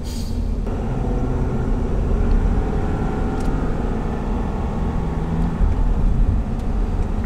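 A Ford Super Duty truck cruises along, heard from inside as a steady low road rumble and engine drone, continuous and even throughout with no talking.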